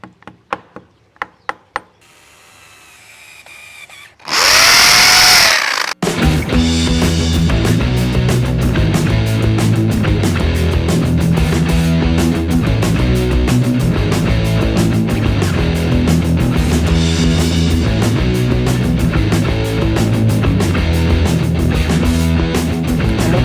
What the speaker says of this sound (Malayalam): നമ്മൾ രണ്ട് തുള തുളച്ചിട്ടുണ്ട്